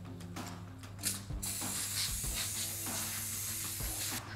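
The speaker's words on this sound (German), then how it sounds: "Dann werde ich jetzt schön sprühen und gleichmäßig verteilen." Rapeseed and sunflower cooking oil sprayed from a spray bottle over a baking tray, several short hissing bursts over a steady background hum, with a louder continuous spray in the second half.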